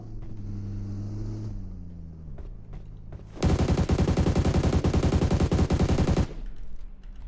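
Rapid automatic gunfire from PUBG Mobile erupts loudly for about three seconds midway through, preceded by a low engine drone and quieter game sounds.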